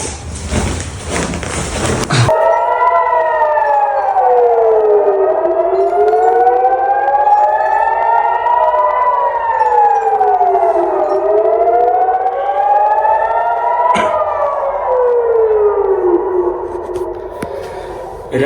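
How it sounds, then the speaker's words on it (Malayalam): A loud civil defense air raid siren in Israel wails steadily, rising and falling in long slow sweeps, preceded by a brief burst of noise. "രാവിലെ ഈ ഒരു സൈറനാണ് കേട്ടോ നമ്മൾ എണീപ്പിച്ചത്"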